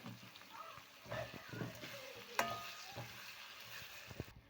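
Tomatoes sauté with rock salt in a pan, a soft, steady sizzle broken by stirring scrapes and clinks, heard close and fairly quiet.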